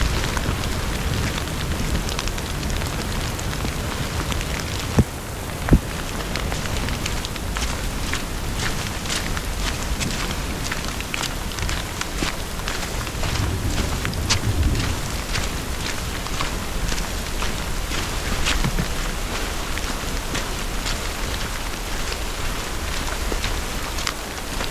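Heavy rain pours down steadily on and around an abandoned house during a storm, a dense, unbroken hiss with a few sharper knocks and splashes partway through.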